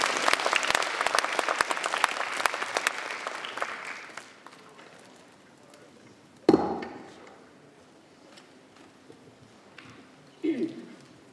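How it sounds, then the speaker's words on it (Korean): An audience at a university graduation ceremony breaks into dense, loud applause that fades after about four seconds, followed by scattered thumps and a few lingering claps. "따뜻한 환영의 박수"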